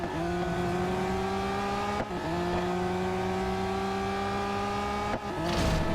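Steady, continuous race car engine drone from the Real Racing 3 video game, holding a high sustained pitch with two brief dips as gears shift, loud and close throughout with no talking.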